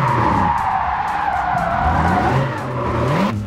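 Tires squealing as a car drifts in the racing game Japanese Drift Master, a loud, continuous screech with engine drone underneath, sustained close-up for a few seconds without talk.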